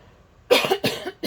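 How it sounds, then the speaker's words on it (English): Three quick coughs from one person, close and fairly loud, the first two harsher and close together, the last shorter after a brief pause. "And then I start filming, and then the coughing starts"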